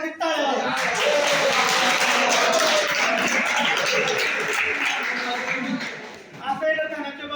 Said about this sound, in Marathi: सगळ्यांनी त्या पोरासाठी टाळ्या